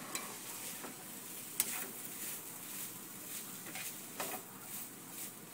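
Tofu scramble with turmeric is stirred in a pan, with a constant gentle sizzle and regular utensil scrapes and taps over several seconds.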